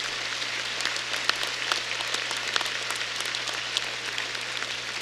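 A graduation audience claps for standing students at a 2019 high school ceremony, a steady, even wash of many hands with scattered sharper claps, continuous throughout under a low constant hum.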